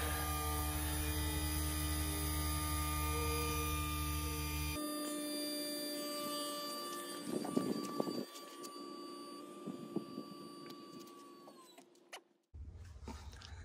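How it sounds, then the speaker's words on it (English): Hydraulic jacks of a Lippert leveling system retracting give a steady motor whine and hum that shifts pitch, with clunks and creaks midway, then the motor winds down and stops near the end. "I can just hit the retract all button and have it retract all of the jacks."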